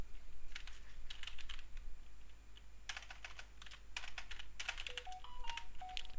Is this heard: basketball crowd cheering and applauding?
no